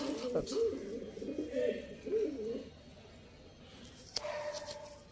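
A young pigeon coos close by in a few soft, throaty rolling calls, followed by quieter rustling in an otherwise calm space.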